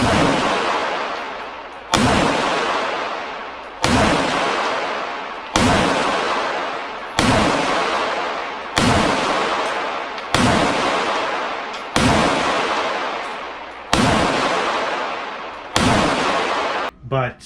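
Sharp pistol shots from a Sig P226 Legion SAO at a range, nine loud reports fired at a steady pace about two seconds apart, each with a decaying echo tail, and a quicker shot at the end.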